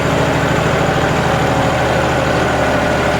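A John Deere 5210 4WD tractor engine runs at steady high revs with a dense, continuous low drone and no breaks, the 100 rpm drop under load barely changing its even tone.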